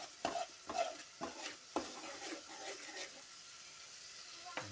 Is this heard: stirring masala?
yes